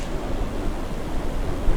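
Steady roaring wind rushing and buffeting continuously around a small aircraft in Microsoft Flight Simulator, Iceland, broadband and fairly loud, with no voices.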